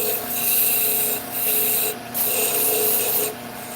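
Wood turning on a lathe with a skew chisel, giving a steady rasping scrape that runs in close, fairly loud passes with two short breaks.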